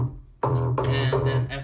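A hardstyle distorted kick drum shaped with heavy EQ sounds as a loud, sustained, buzzing low boom that erupts after a brief quieter lead-in and holds steady with a gritty, harmonically rich tone.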